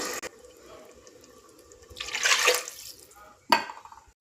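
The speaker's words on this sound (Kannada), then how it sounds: "ಅದಕ್ಕೆ ಎರಡು ಗ್ಲಾಸ್ ನೀರು ಹಾಕ್ಕೊಳ್ತೀನಿ ನಾನು" A short gush of water splashes into a pot of rice, followed by a sharp clatter; quiet kitchen background with faint drips.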